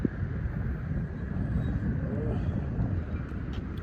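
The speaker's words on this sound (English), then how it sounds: "Windy today." Steady wind rushes and buffets a microphone outdoors, a dense low roar running unbroken through the whole stretch with no distinct voices standing out.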